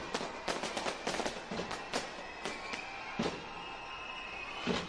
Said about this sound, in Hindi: ये फायरवर्क्स, आतिशबाजी,